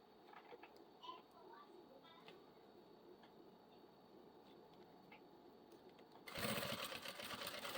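A sewing machine runs in a quiet stretch stitching a fabric toiletry bag, faint rapid ticking at first, then a loud close whirring burst of stitching toward the end.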